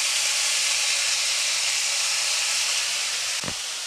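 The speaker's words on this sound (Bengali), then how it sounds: "এই আলু আমি এবার তেলের মধ্যে দেব" Finely grated potatoes fry in hot oil with a loud, even hiss that holds steady throughout and ends in one brief knock near the close.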